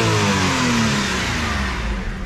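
A 1993 Mitsubishi Bravo kei van engine revs hard toward redline, a loud, close whine with harmonics sliding through the pitch range as rpm shifts, sustained with no talking.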